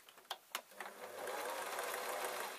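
A sewing machine stitching a seam on a small drawstring storage bag, starting with a few separate clicks and then running in a steady, close, continuous whir.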